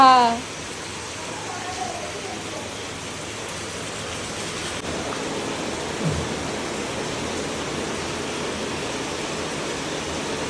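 Heavy rain pours down in a steady, dense hiss, with a voice briefly at the very start.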